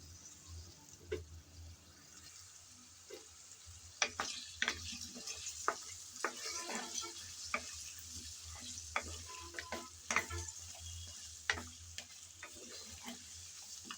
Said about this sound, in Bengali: কিছুক্ষণ সময় ধরে ফুলকপি ভেজে নিলাম